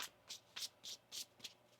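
Tarot cards shuffled by hand in a series of six short, crisp riffling bursts at a steady rhythm, close and clear with no talking over them.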